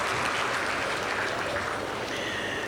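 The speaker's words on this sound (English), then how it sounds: "Please give the gentleman a round of applause." An audience applauds a gentleman at the launch of a city walk experience centre in Abuja, a steady wash of moderate clapping from a room of people, fairly distant.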